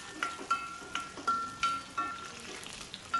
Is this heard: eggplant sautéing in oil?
yes